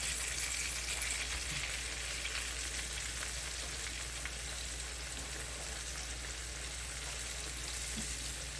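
Floured oxtails browning in a hot pan give a steady, even sizzle and crackle that holds at a moderate level throughout, close by and without speech.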